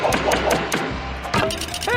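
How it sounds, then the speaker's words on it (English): A cartoon hammer strikes repeatedly in the Monkey Preschool children's game, a few quick, loud taps in a row, followed by a bright chiming game effect. "Hammering time! Tap your finger."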